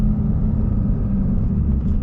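A 2021 Ram 2500 AEV Prospector XL pickup gives a steady, loud, low engine rumble under partial acceleration, heard from inside the cab with no pauses.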